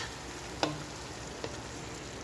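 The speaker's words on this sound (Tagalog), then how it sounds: "Imimix ko dito yung rice." Rice and tuna stirred in a pan, with a steady soft sizzle and two sharp scrapes or clinks of the utensil against the pan.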